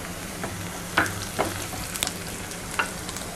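Green chilies and chopped onion fry in hot oil for a bottle gourd gravy, giving a steady soft sizzle with a few sharper crackles and stirring taps, close and fairly quiet, with no talking.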